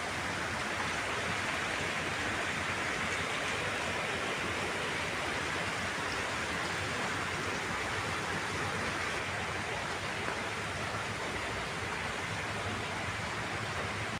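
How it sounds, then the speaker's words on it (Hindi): Heavy rain roars in a steady, unbroken wash of hiss, loud and close, with no voices. "बहुत तेज़ बारिश पड़ रही है।"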